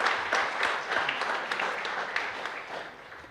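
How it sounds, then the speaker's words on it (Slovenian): Audience applause at a Slovenian startup talk welcoming a three-person team, a dense, steady wash of many hands clapping throughout, moderately loud and without speech. "Tako da en aplavz za začetek"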